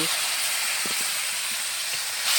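Spice paste of ginger, cumin, garlic and onion hits a hot pan in a home kitchen, giving a continuous loud hissing sizzle with faint spatters, close up and unbroken for the whole stretch.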